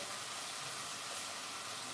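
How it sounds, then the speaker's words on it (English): Cold running water pours steadily over strained rice, a constant dense hiss that stays loud and even throughout, with no voices. "I'm going to strain it. I'm going to rinse it with cold water."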